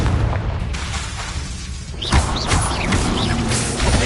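A Confringo explosion spell fired in the video game Hogwarts Legacy, heard as a loud booming burst with crackling magical whooshes over dense game music and ambience.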